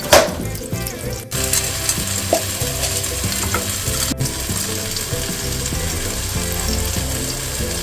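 Whole garam masala spices frying in hot oil for bagara rice, a loud steady sizzle close by with clattering stirring and a couple of abrupt breaks; no voices.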